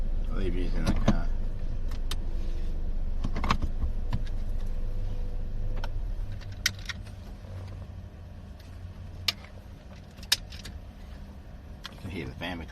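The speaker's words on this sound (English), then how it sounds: "You can hear the fan because I've got the heat on in here." A steady low heater fan whoosh fills a car interior, with occasional clicks and small knocks over the constant airflow.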